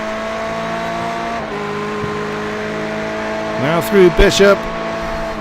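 GTE race cars lapping Sebring in iRacing, a steady engine drone with harmonic whine that drops pitch as cars pass, followed by a louder burst of passing cars near the end, all under continuous commentary.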